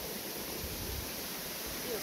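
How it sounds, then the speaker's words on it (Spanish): Small waterfall reached on a winter hike, a steady, soft rushing of falling water heard as a constant hiss with no distinct splashes. "Hemos llegado a la cascadita."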